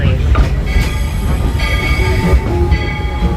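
The Walt Disney World Railroad train at Magic Kingdom pulls into the station with a loud rumbling, clattering roll of wheels and faint squeals, while an announcer's voice speaks over it.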